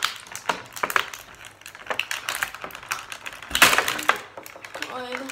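Bakugan Pegatrix toy being pulled from its plastic and cardboard packaging: close, irregular crinkles, taps and tearing rustles in quick clusters, with a brief louder crackle near the end.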